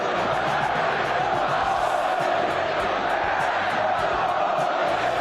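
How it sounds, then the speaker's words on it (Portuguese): Santos football fans in a Brazilian stadium roar and chant, a loud, continuous mass of crowd voices swelling throughout. "A torcida, irritada com Kleber Xavier, começou a pedir Jorge Sampaoli."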